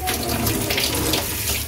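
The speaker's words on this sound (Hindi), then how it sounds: "तो पानी गर्म आना स्टार्ट हो चुका है।" Hot water runs from the tap of an electric instant water geyser. The flow makes a steady, close, full rushing splash that stays even throughout, with no voices.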